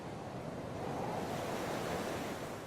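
Ocean waves surround the island of Sri Lanka, heard as a continuous, soft broadband roar of surf with a wind-like hiss, steady and distant, with no voices.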